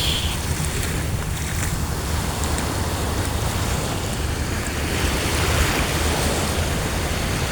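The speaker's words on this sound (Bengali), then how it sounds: "সমুদ্রের ঢেউ" Sea waves wash onto a sandy beach at sunset in a continuous broad roar, with some wind buffeting the microphone and no voices.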